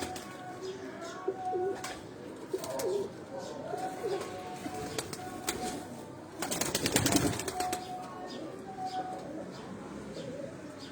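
Pigeons at a breeder's loft cooing in soft, repeated low calls, with a brief burst of wing flapping midway and steady background bird chatter throughout.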